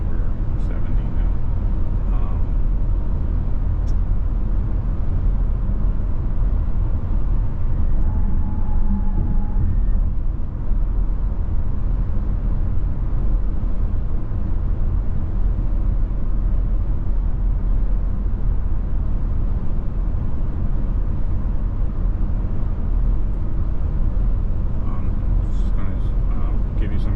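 Inside a 2021 Audi E-Tron Prestige cruising at just over 70 mph, a steady low road and wind roar runs continuously while someone talks over it.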